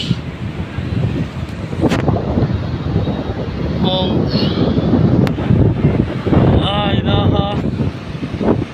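Gusty wind before rain buffets the microphone on a ten-storey rooftop in Narayanganj, a continuous rushing roar with a few brief higher chirps and faint voices mixed in.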